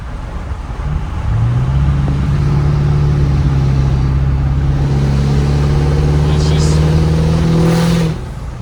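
A loud, deep 6.0 Powerstroke diesel engine with a 4-inch straight-pipe exhaust and 7-inch tip revs up close and holds a steady throaty roar for several seconds before cutting off.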